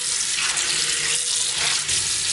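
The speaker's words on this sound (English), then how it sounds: "Turn on water." Kitchen faucet running water into a sink, a loud, steady close-up rush with slight surges and no talk.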